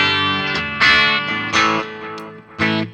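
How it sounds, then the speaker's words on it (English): A Marshall JCM amplifier, master volume set fairly high, is pushed into a touch of power tube distortion. A few ringing guitar chords play loud and close, each one swelling and then sustaining, with no talking. "So you're getting a touch of power tube distortion."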